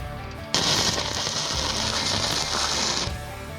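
An ARCCAPTAIN MIG200 MIG welder lays a stitch weld with a loud, steady crackling sizzle. It starts abruptly, holds for about two and a half seconds, then cuts off.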